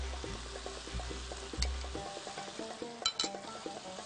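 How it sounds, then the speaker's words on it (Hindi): Two tablespoons of yogurt go into a hot pan over a lowered flame, giving a steady close sizzle with scraping stirring strokes and a few sharp clinks, with no voices. "इस पॉइंट पे 2 टेबलस्पून दही के आप पैन में डालें"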